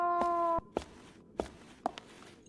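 A cat in the Fragile Dreams video game gives one clear meow, followed by a few soft, evenly spaced footsteps, all fairly quiet and close.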